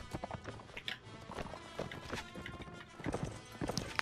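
Horse hooves clip-clopping in the medieval combat game Mount&Blade Warband, a quick uneven run of loud nearby hoofbeats with battle noise around them and no voices.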